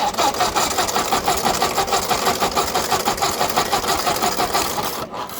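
A 1957 Ford 841 tractor engine runs with the choke applied, a loud, close, rapid mechanical chatter with steady rhythmic pulsing that dips briefly near the end, no voices.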